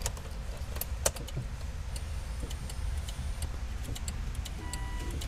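Key turned in the ignition of a Volvo V70R with electrical faults: a few soft metallic key clicks and jangles, then faint ticking under a quiet, steady cabin hum.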